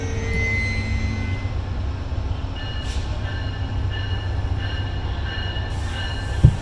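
An RTD A-line commuter rail train in Denver rumbles steadily past with a low, continuous roar, faint metallic wheel squeals rising above it now and then.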